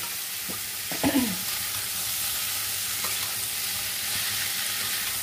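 Green jackfruit frying in a pan while being stirred, a steady close sizzle broken by a few scraping stirring strokes, the loudest near the start.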